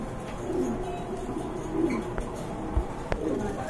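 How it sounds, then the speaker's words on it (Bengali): Black Beauty Homer pigeons coo softly in a few low, rolling bursts over a steady background hum, with occasional faint clicks. "এখানে রয়েছে এক জোড়া ব্ল্যাক বিউটি হোমা, জার্মান বিউটি হোমা"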